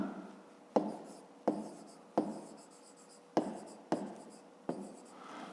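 A pen scratches across paper during a fifth-grade maths exercise, with a run of about seven sharp strokes in a steady rhythm, close and clear, and no talking.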